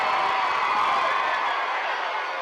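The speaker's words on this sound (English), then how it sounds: "It's a half-hearted cheer from the Farmington crowd." A half-hearted cheer rises from the Farmington crowd in the bleachers at a high school football game, a steady, distant wash of voices that slowly fades.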